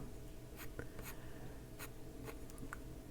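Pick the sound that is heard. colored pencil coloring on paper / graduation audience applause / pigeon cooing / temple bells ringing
colored pencil coloring on paper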